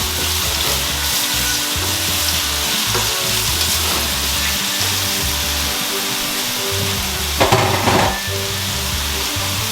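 Mushrooms sizzling in hot oil in a pan as they are stirred and turned, a steady loud hiss with occasional scraping, over a rhythmic background beat.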